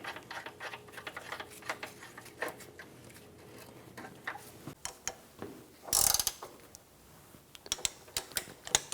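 Ratchet wrench clicking as a nut is tightened on the lower control arm bolt of a 2003–2007 Infiniti G35, close-up rapid pawl ticks in uneven bursts with a sharp metallic clank midway.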